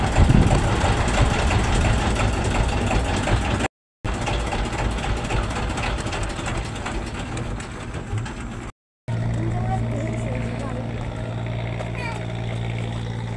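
A boat's engine drones steadily on a river crossing, close and continuous, with muffled wind and background noise and two brief dropouts, while people talk nearby.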